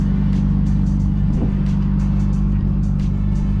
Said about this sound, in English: let's get a cold start in the Supra